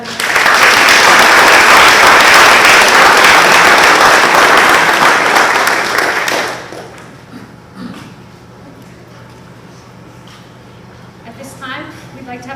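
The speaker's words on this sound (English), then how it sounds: "Let's give them a nice round of applause." Audience at a school board of education meeting applauding students, a loud dense wash of clapping for about six seconds that then fades into quiet room tone.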